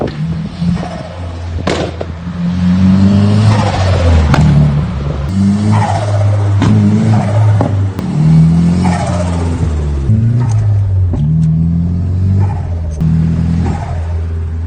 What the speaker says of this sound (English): I'm going to show you guys some sound clips from when I had a blocked off blow-off valve, pod filter, and a plastic stock intake pipe